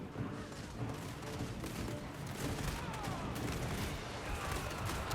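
Dense, continuous crackling volleys of small-arms fire from Corsairs' finger pistols sound through a Total War: Warhammer 3 battle, overlapping shots blending into a steady roar of distant gunfire.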